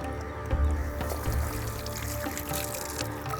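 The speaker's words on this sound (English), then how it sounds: "Just going to rinse my hands once." Water runs from a kitchen tap over hands being rinsed between steps of cooking prawns, a steady close splashing hiss that carries on without a break.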